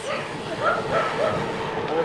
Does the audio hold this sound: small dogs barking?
yes